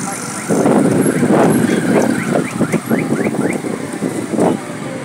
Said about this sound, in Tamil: டிராஃபிக்கை பாருங்க, டிராஃபிக் எப்படி இருக்குன்ட்டு.